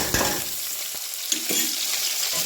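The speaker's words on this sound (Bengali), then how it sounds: "তারপর কড়াইতে দিলাম আদা রসুন পেঁয়াজ বাটার" Ginger, garlic and onion paste fries in a hot wok, a short burst of dense sizzling with a couple of spatula knocks against the pan.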